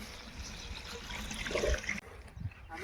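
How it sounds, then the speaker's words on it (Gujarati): Irrigation water flows into an onion field, a steady wash of running, trickling water with a brief surge in the middle, then quieter flow after an abrupt dip. "ચલો પાણી આપણું થઈ ગયું ચાલુ."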